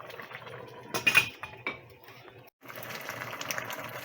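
A lid clatters onto a pot of chicken curry with a sharp metallic clink and rattle, followed by soft kitchen noise and the low hiss of simmering.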